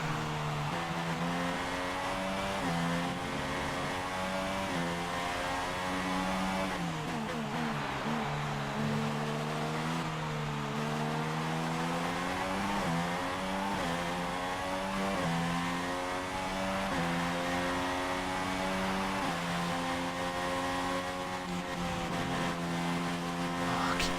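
Formula One car on soft tyres in the F1 2016 racing game, its high-pitched engine note climbing and shifting through gears in steady, continuous acceleration that stays loud throughout with no voices.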